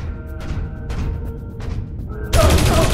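Gunfire from soldiers shooting in a stealth action video game: quiet sparse bursts early on, then a loud dense volley erupting near the end, with game ambience underneath and no talking.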